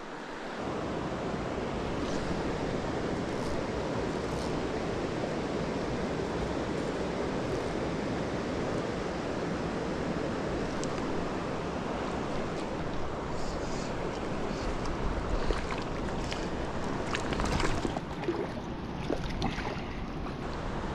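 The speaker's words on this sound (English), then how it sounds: "There's another little brook." A small mountain brook rushes steadily in the Colorado backcountry, a constant broadband wash of flowing water heard close for the whole stretch, with some wind buffeting and no talking.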